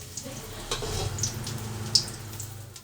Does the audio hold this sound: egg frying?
yes